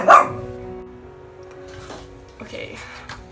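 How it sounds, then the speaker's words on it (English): A dog barks once loudly at the start, then gives a few softer yips and whimpers nearby in an indoor room. "sorry, that was my dog."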